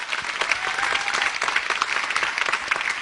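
An audience claps continuously in a lively, slightly uneven patter of many hands, moderately loud throughout, with faint crowd murmur underneath.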